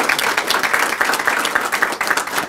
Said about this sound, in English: So if we can give Barry a round of applause